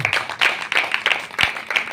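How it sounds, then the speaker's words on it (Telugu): A church congregation claps loudly during a sermon, with quick, rhythmic, evenly spaced claps that continue for the whole moment. "చప్పట్లు కొట్టండి గట్టిగా."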